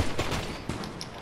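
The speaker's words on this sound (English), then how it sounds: "I think that's the double pistols" Double pistols firing in the video game Fortnite, a quick burst of several sharp shots in rapid succession, moderately loud over a brief stretch.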